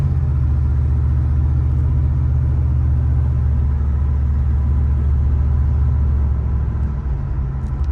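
A 1979 Oldsmobile Cutlass Supreme with 43K original miles cruises along on 32s, its engine giving a deep, steady, close rumble throughout with no talking.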